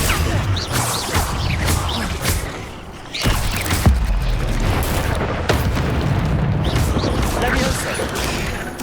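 Incendio fire spell cast in Hogwarts Legacy amid other spell effects: a sharp whooshing burst near the three-second mark followed by a sustained roaring crackle, with repeated loud magical impacts throughout.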